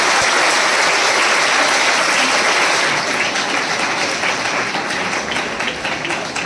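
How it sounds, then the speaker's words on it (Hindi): Loud, dense applause from a school audience at an exhibition opening, a continuous roar of many hands clapping that holds strong before gradually easing toward the end. "जोरदार ताली अपने लिए"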